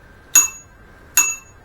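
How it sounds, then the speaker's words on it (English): A cheap bell on a new electric bike rings twice, each a sharp bright ding with a short fading ring, about a second apart in a quiet room. "Even the bell feels a bit cheap."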